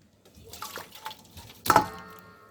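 Water poured off a pot of boiled saltfish outdoors, heard as a few soft trickles followed by a short, loud splashing gush and a fading dribble.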